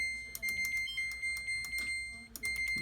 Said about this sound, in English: it beeps at you when you get it on